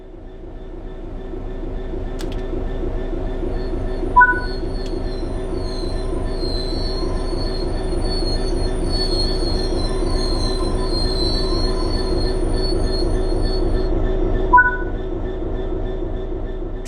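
A train in Train Sim World 3 brakes with a loud, continuous metallic squeal from its wheels over a steady rumble, and two short higher chirps break through partway along and again near the end.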